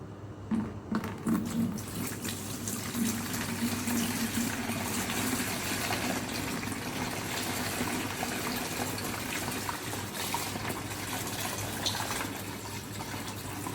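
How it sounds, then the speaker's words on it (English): Water pouring and gushing steadily into a big container during a school science demonstration, a continuous rushing fill that holds at an even level with no talk over it. "I want you to fill this big container with the water over there."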